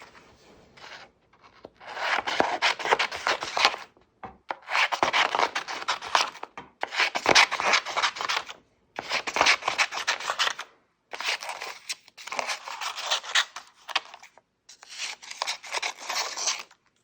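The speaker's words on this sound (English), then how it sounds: "Cut out colorful sections of your discarded graphic novels / comics or magazines. Cut into small pieces." Scissors cut discarded comic book or magazine pages into small pieces, producing close, repeated bursts of snipping and paper rustle, each lasting a second or two, separated by short pauses, with no voices.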